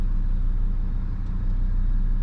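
Porsche Cayman GT4 fitted with a Fabspeed exhaust accelerating, a loud, deep, continuous engine rumble heard close up with no talking.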